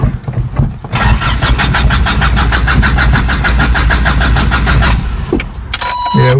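A 1985 Toyota Pickup with a 22R engine cranks from cold, giving a loud rhythmic, evenly pulsing starter churn for several seconds before a brief catch and a clatter close by.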